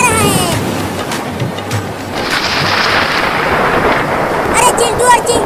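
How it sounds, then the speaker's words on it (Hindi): Steady heavy rain hisses throughout, with a deep rumble of thunder rolling underneath, loud and close. "देखो कितना बादल गरज रहा है।"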